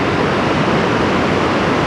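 Ocean waves wash onto the beach at Cannon Beach, Oregon, a loud, close, continuous roar of surf with no distinct breaks, filling the whole moment without any voices.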